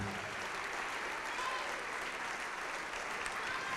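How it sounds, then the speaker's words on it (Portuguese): Church congregation applauding at a Portuguese-language evangelical service, a steady, dense wash of clapping that runs unbroken and fairly distant throughout. "E vamos aplaudir mais ao nome do Senhor"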